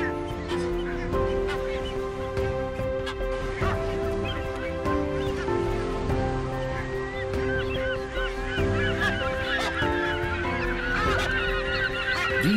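Sooty tern breeding colony calling nonstop, a dense overlapping chorus of loud high-pitched honking and cawing cries from many birds close by, with no gaps of quiet.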